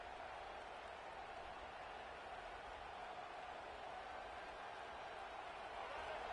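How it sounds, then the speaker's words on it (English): A stadium crowd at an American football game roars in a steady, continuous wash of cheering and noise, loud and broad, with no break across the stretch. "this crowd is fired up. Listen to this noise here"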